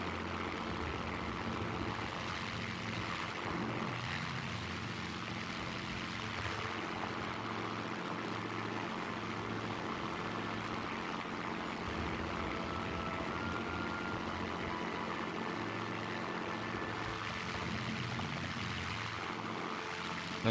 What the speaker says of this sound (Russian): Двигатель перегрет, форсаж включен.